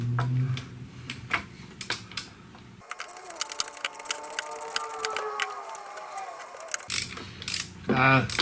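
A ratchet with a short 24 mm socket turns the oil filter cap on a Dodge Grand Caravan, giving a close run of rapid clicking with metallic creaks and a brief clatter at the end.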